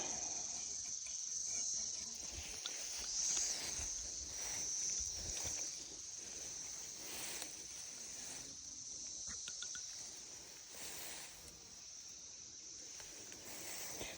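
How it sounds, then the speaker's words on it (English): A continuous high-pitched cicada buzz drones steadily throughout while trees are trimmed, with faint rustling and movement underneath and no talking. "Oh, there's a cicada. Also, this is cicada year."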